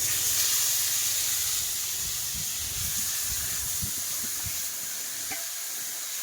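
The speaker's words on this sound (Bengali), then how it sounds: "চিনিটা লাল হয়ে গেছে এবারে সব মশলাগুলো দিয়ে দিচ্ছি" Spices go into hot oil with caramelized sugar, producing a steady, fairly loud hiss of sizzling that eases slightly toward the end, with no voices.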